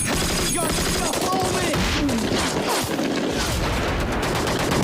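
Dense battle gunfire from a World War II TV series combat scene, with rapid overlapping rifle and machine-gun bursts and booms filling the whole stretch at steady high loudness, mixed with noisy action sound.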